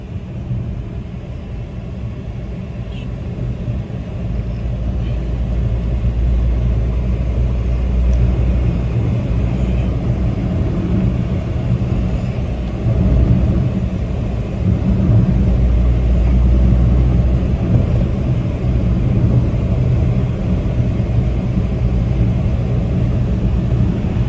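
A car cruises along the Mumbai–Goa highway at roughly 60 to 80 km/h, heard from inside as a loud, continuous low rumble of engine and road noise with slight swells and no talk.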